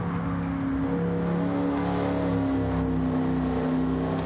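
A Pontiac Firebird Trans Am in Gran Turismo 7 on the Nordschleife holds a steady engine note as it accelerates, the tone climbing gradually as it pulls.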